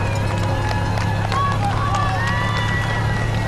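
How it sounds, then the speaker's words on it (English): Spectators lining the 2009 New York City Marathon course cheer on British runner Paula Radcliffe, a dense, continuous roar of crowd noise with a commentator talking over it. "The crowd urging her on."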